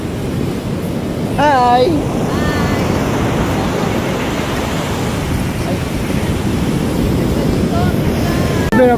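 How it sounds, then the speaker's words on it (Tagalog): Strong waves crash on a beach at a surfing spot in San Juan on a late afternoon, a loud continuous surf roar with wind, while people talk and call out close by. "Hindi inaasahan, ang lakas nga ng alon."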